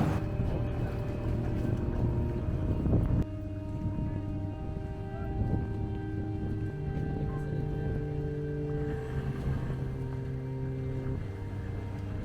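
A car ferry carrying three cars crosses the river to Dalyan, its engine a steady droning hum with tonal harmonics shifting in pitch, alongside faint water and ambient noise.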